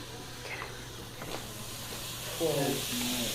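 A soft, steady hiss of liquid oxygen fizzing and boiling away on a desk, with a faint voice briefly heard near the end.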